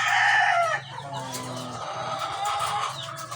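A rooster crows loudly and close at the start, and then backyard chickens keep up a busy clucking and murmuring that swells and fades with no one speaking.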